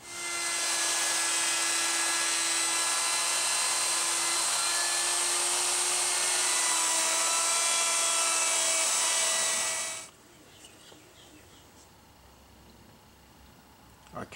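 Power router cutting a pickup cavity into a Les Paul Junior style guitar body with a template, a loud, steady high whine for about ten seconds, then stopping into quiet room noise.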